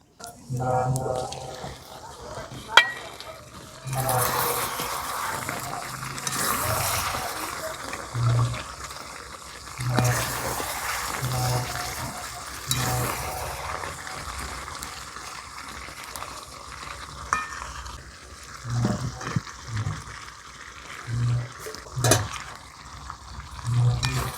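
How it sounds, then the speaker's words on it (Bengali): Chicken browning in a pot with chopped raw mango and fried potato added, steady frying sizzle broken by repeated stirring scrapes and clatters, with a voice talking over it. "এই অবস্থাতে কেটে রাখা আম, ভেজে রাখা আলুটা দিয়ে দেব।"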